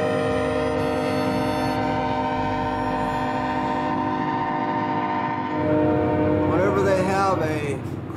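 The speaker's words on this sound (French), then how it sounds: "À chaque passage à niveau, les cheminots doivent klaxonner." A long, sustained train horn blares loudly and steadily over the rumble of a passing train at a level crossing in the American desert along Route 66, shifting in pitch near the end as the train goes by.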